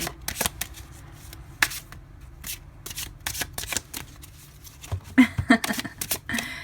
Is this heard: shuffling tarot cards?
yes